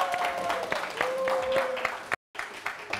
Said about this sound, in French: Applaudissements encore une fois pour Sentinelle.